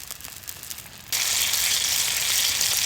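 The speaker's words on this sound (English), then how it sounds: "Some onions cooking up in butter." Onions frying in butter in a cast iron pan, a close, loud and steady sizzle that jumps up sharply about a second in and then holds at full strength with no voices.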